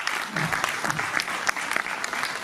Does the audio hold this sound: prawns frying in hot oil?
no